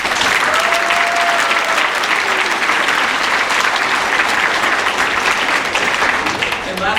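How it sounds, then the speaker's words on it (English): Audience applause at a school winter concert in a middle school, a dense, sustained clapping from a large crowd filling the room evenly throughout. "Can we have another round of applause for some volunteers?"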